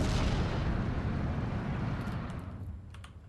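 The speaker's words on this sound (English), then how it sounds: "He's shelling his own position." Artillery shelling in the Steel Division 2 war game: a heavy, booming blast opens loud and close, then rumbles and fades, with a few faint clicks near the end.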